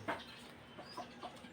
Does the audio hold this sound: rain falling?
no